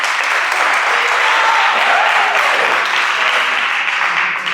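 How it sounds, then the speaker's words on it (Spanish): Dense, sustained applause from a conference audience in a hall, loud and steady for several seconds before easing slightly at the end. "Un aplauso a Tony"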